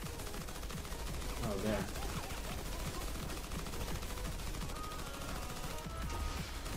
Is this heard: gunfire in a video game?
yes